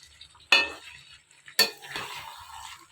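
Chicken and potatoes cook in a pan, where two sharp spatula scrapes or knocks against the metal stand out above a faint background sizzle, with no talking.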